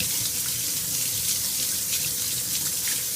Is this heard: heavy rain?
no